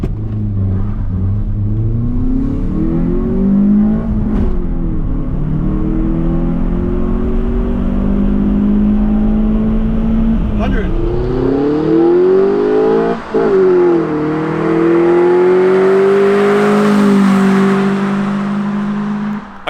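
A Mitsubishi Lancer with the 4G93 1.8-litre turbo engine and no air filter accelerates hard from 0 to 100, a loud, close, continuous rising engine note climbing through the gears with brief dips at the shifts.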